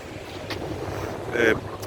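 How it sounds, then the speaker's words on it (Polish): Sea surf rolls in at the beach in Kołobrzeg, a steady broad wash under wind buffeting a microphone. A brief burst of nearby noise comes near the end. "możemy chwilę posłuchać szumu morza"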